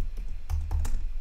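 A few quick keystrokes on a computer keyboard, close and distinct clicks in a short burst, with no talk over them.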